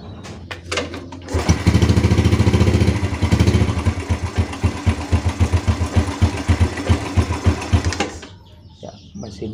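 A Yamaha Vega R motorcycle engine starts after a carburetor tune-up and runs loud and close with a fast, uneven putter that swells and dips for several seconds before cutting off.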